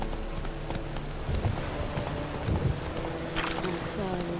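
Roach, the horse in The Witcher 3, trotting with a steady clip-clop of hooves over ambient wind and rain, moderately close and fairly loud.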